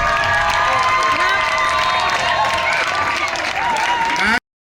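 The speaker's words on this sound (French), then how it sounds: "Acclamons Jésus-Christ pour." Church congregation at a healing service applauding and cheering loudly and steadily, a dense wash of clapping and shouting voices that continues without a break before cutting off abruptly.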